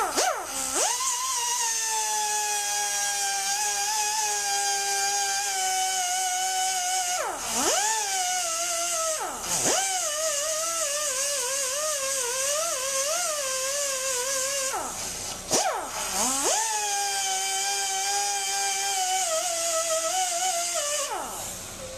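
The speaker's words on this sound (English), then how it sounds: "Now I'm just going to dress it up with this 50 grit wheel." An angle grinder with a 50 grit wheel dressing auto body metal whines loudly and steadily, its pitch dipping sharply several times as the wheel bites into the panel and then recovering.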